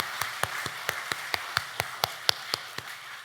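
Sparse, evenly spaced hand claps from a church congregation after a choir's hymn, a dozen sharp single claps at a steady rhythm, fairly faint and distant with no voices.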